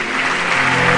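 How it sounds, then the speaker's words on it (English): A church congregation claps hands in a brief, dense burst of applause, loud and close, lasting about a second. "Clap those hands and take your seat"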